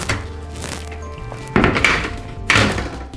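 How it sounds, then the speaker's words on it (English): A heavy shower door knocks and thunks as it is lifted off its hinges and shifted, with a couple of louder bumps near the end, close by and without talk. "And the entire door will come off."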